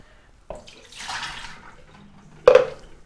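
Philips LatteGo 5400 coffee machine rinsing: a click, then a soft hissing gush of water, followed by a second louder click and a short spurt, all fairly close and quiet.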